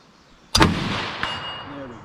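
A single sharp rifle shot from a Long Branch Enfield No4 MkI* cracks loudly at an outdoor range, followed by a rolling echo and a faint distant report about a second later.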